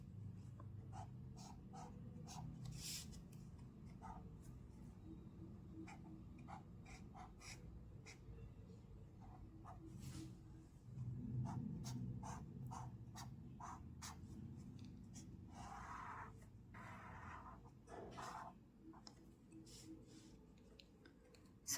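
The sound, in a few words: pen drawing a three-phase load diagram on paper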